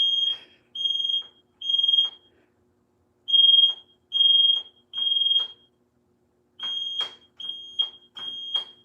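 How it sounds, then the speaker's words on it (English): A smoke detector sounds in piercing, high electronic beeps, repeated in short bursts with brief gaps and a longer pause midway, loud and close with no voices. "This alarm is piercing."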